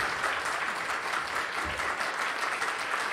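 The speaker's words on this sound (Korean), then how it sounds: "패널로 나와주신 네 분께 다시 한번 박수 부탁드리겠습니다" Church audience applauding four panelists at a forum, dense sustained clapping filling the room at steady loudness throughout.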